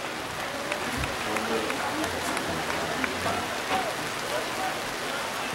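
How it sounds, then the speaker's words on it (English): A crowd at a high school football senior night claps steadily, a dense rain-like patter of applause heard from a distance throughout. "Let's have a nice round of applause this evening for our senior football players"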